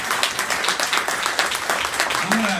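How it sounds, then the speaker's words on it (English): A seated audience at a political roundup event claps briefly, a short burst of brisk applause with a voice faintly heard near the end. "So they deserve a round of applause for that."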